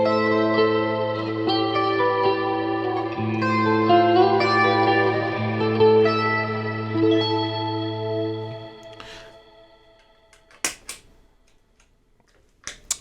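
Electric guitar chords bathed in a wide, washy stereo reverb that swells and slowly fades, followed by a few faint ticks and clicks.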